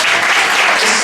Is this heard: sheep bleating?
no